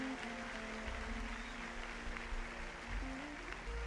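A church congregation claps loudly and steadily for several seconds, with sustained organ-like tones humming underneath.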